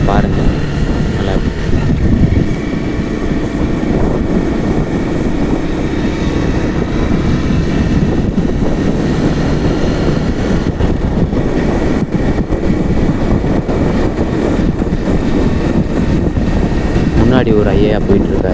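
A Pulsar 125 motorcycle riding on a road, heard as a loud, steady engine drone mixed with heavy wind rush throughout, with someone talking over it.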